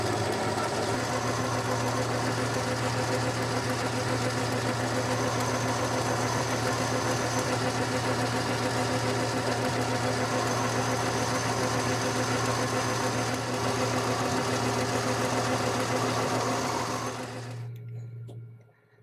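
Lathe turning down a threaded steel bar from about 10mm to 8mm while making a tool clamping bolt: a steady, loud machine drone with a strong low hum holds for most of the run, then cuts off sharply near the end.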